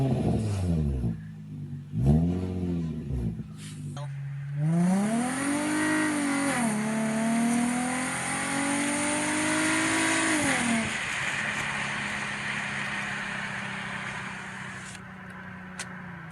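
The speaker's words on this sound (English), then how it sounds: "We're going to give some rev clips here and then take it down the road and hear what it sounds like." A Nissan G35 with a newly installed Manzo exhaust revving: several sharp throttle blips, then a long rising rev that drops off and settles into a steady drone, loud and close.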